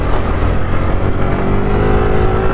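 A motorcycle with an aftermarket exhaust pulls away at full power, a loud, steady engine roar building close by with no talk over it.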